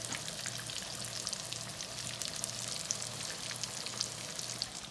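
A fresh rainbow trout fillet frying in a pan with garlic, giving a continuous moderate sizzle with fine crackles and a low steady hum underneath, no voices.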